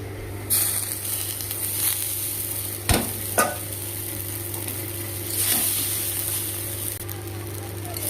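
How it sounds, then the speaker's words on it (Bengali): Soaked flattened rice (chira) with carrots frying in a pan, with a steady sizzle, a couple of sharp spoon knocks and scraping stirs; a faint murmur of voice may be present. "এবার দিয়ে ভাজবো।"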